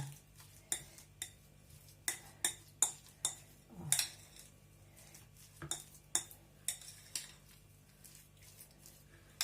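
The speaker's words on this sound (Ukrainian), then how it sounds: "Я додавала трошки майонезу і то все перемішаю" A spoon stirring a mayonnaise filling for stuffed eggs and tomatoes in a bowl, giving quiet, irregular clinks and scrapes against the dish over a low background hum.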